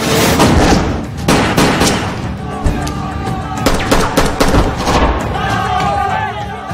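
Gunfire rings out in a movie shootout, with repeated sharp, loud bursts and booms over a dense, busy mix.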